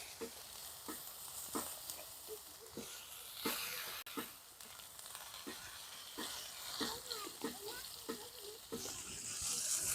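Eggs and bitter gourd frying in oil with turmeric, a close, steady sizzle and crackle broken by repeated scraping stirs of a spatula, fairly quiet overall.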